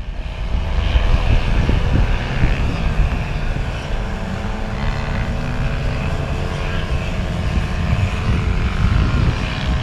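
A propeller aircraft's engine drones loudly on a first flight, with a steady, dense roar and low rumble while it throttles up in the air, and a faint voice under it.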